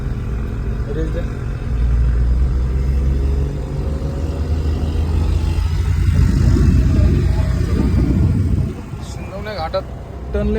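A fully loaded Bajaj Maxima works its way through the turns of the Shindawane ghat road, its engine giving a steady low rumble that swells and holds under a raised throttle before easing near the end.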